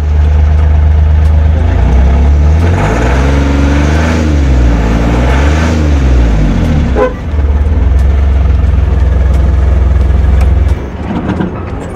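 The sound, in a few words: Ashok Leyland Dost engine started and idling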